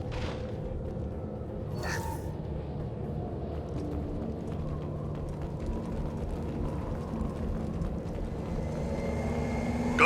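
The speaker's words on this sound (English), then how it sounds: "Gunship above." A gunship in a video game drones overhead as a steady low engine rumble that holds evenly throughout, with a few faint clicks and tones over it.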